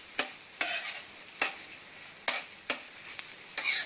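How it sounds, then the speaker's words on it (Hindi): Ginger garlic paste and green chillies fry for street-style tawa pulao, with a soft background sizzle broken by sharp, evenly spaced scraping strokes of a spatula on the pan, close and crisp, with no talking. "अब जिंजर गार्लिक पेस्ट भी डाल देंगे और साथ में हरी मिर्च भी अच्छे से मिक्स करेंगे और इनको लाइट ब्राउन होने तक"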